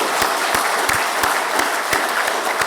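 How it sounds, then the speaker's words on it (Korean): A church congregation on a Sunday service claps in welcome, a sustained, even round of applause from many people with a few sharper individual claps standing out, filling the room without any speech. "큰 박수로 환영하시겠습니다."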